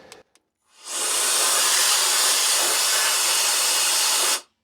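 A strong, steady hiss of compressed air blasting into a computer fan to clear out dust, starting after a couple of faint clicks, holding evenly loud for about three and a half seconds, then cutting off abruptly.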